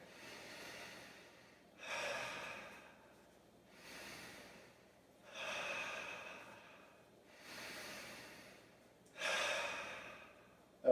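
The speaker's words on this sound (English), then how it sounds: "take 3 nice deep breaths in" Slow, deep breathing: five audible breaths in and out, evenly spaced, close and soft, with no talking.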